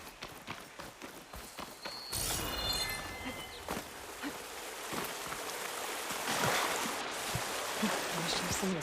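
Rushing water from a waterfall in Horizon Forbidden West fills the scene with a continuous broad wash, punctuated by footsteps and brief bursts of voice.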